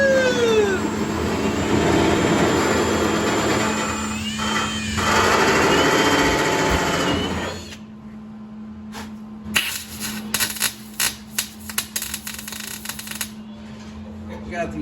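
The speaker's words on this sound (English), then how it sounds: "I'm gonna drill out my next spot weld here" A drill grinds through spot welds on the body of a 1956 Chevy gasser, giving a loud, continuous whining drone for several seconds. The drilling then stops, leaving scattered sharp clicks and knocks of shop work.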